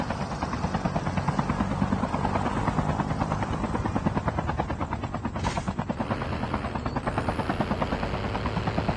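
A video-game helicopter drones close and loud, its rotor chopping in a rapid, even pulse throughout, with a brief whooshing sweep near the end.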